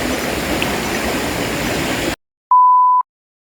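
River water flows in a loud, steady, continuous rush for about two seconds, then cuts to silence before a single short electronic beep.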